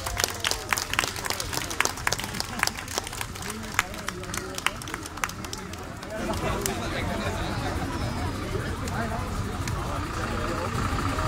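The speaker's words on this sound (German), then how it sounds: "Applaus!" A crowd claps in dense applause at a traditional festival parade, the Müggelheimer Angerfest in 2018, with sharp scattered claps, then fades into a steady outdoor murmur of traffic and chatter.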